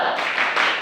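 A group claps the 'tepuk semangat' rhythmic chant in a classroom at an Islamic boarding school, sharp close claps in a quick burst of a few beats.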